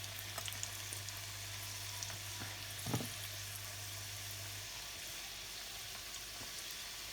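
Somas deep-frying in hot oil give off a faint, steady sizzle and crackle throughout, with a low background hum and a brief stir-like clatter partway through.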